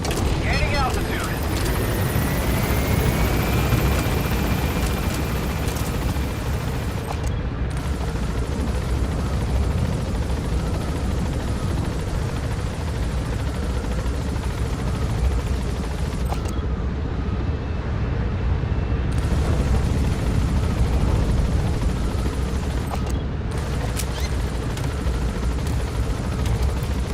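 In Metal Gear Solid V, a helicopter gaining altitude gives a continuous heavy rotor and engine rumble throughout, with a voice speaking over it.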